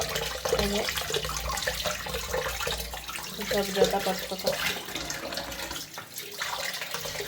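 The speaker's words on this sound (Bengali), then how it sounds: "তো এক এক করে এখন হচ্ছে সবগুলো মাছ ভালো করে একটু ধুয়ে নিব" Hilsa fish being washed under running tap water in a kitchen sink, with a continuous splashing flow that shifts as the fish is handled, close and moderately loud, with no talk over it.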